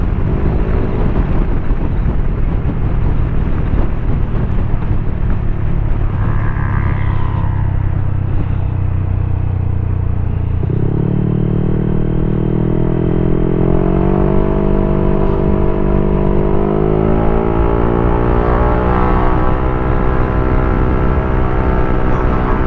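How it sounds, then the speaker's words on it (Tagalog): Strong wind roars steadily into the microphone with low rumbling buffeting throughout, joined partway by a rising engine-like drone from a Honda PCX160 scooter in Batangas. "Lakas ng hangin"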